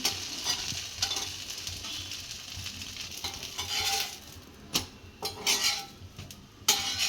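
A dosa is flipped on a hot pan and keeps sizzling after oil, ghee or butter goes on. A steady, fairly quiet fry runs under scattered clinks of a spatula against the pan, with a few sharp scrapes near the end.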